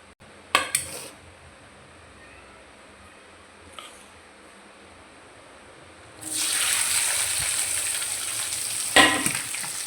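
Chopped tomato, onion and green chili hit hot oil left from frying squid, bursting into a loud, steady sizzle after a quiet stretch with a few faint clinks of utensils; the frying hiss stays close and continuous.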